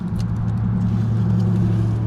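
An electric fuel pump running in an OBS Ford truck undergoing a fuel system overhaul, giving a steady, fairly loud low hum with a droning tone that holds unchanged throughout, with no voices.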